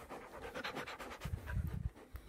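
A small dog pants quickly and steadily close by, rapid breathy huffs with a little scratching in the last second, and no talk over it.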